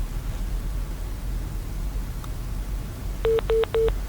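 Three short, evenly spaced electronic beeps of a phone call disconnecting sound near the end, over a steady background hiss on a phone line.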